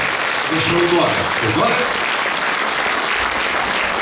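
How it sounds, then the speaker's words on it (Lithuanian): Audience applause rises for a children's trio bowing after their performance at a Lithuanian Independence Day event; steady dense clapping fills the whole stretch, with a brief spoken word over it early on. "publika ploja iš susižavėjimo"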